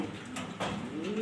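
A black Maltese female pigeon coos in a short, soft, close burst of throaty notes, with no talking.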